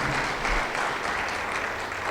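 Congregation applauding during a church worship service, a steady dense wash of clapping from many people that holds for about two seconds without speech.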